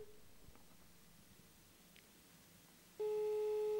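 A telephone ringback tone rings loud and steady at the end, after dialing a mobile phone, following a stretch of quiet background.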